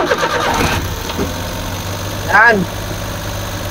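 Suzuki DA63 with K6A engine, running with a steady mid-pitched idle hum throughout while someone talks briefly nearby, with a short louder mechanical whir partway through.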